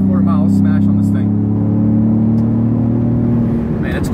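A 2017 Ford Raptor pickup engine hums steadily at a mid pitch as it accelerates, a constant drone heard close up with someone talking over it at the start.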